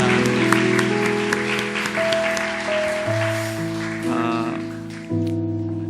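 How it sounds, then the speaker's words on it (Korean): Congregation clapping in a Korean church service, steady applause blended with sustained keyboard or organ music and singing tones, fairly loud and continuous. "우리 한 번 더 큰 박수로 축복하겠습니다"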